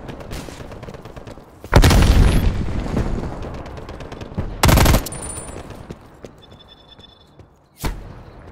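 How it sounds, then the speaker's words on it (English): A frag grenade explosion in a Call of Duty match: a loud, close blast followed by rumbling debris and a lingering tail, with further sharp bursts of gunfire or blasts later and faint high electronic tones, no talk. "Frag grenade."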